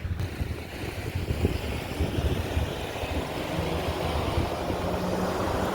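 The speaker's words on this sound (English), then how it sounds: "Excuse the noise with the construction truck." A steady, loud low rumble of heavy engine noise from a construction truck drones on throughout, like a big truck idling nearby, with no talking.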